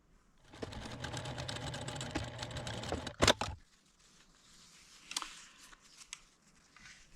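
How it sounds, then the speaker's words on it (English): A sewing machine stitches a quarter-inch seam in a fast, steady mechanical whir lasting about three seconds. A sharp snip follows, then quieter handling of fabric. "I'm going to sew a 1/4 inch seam there."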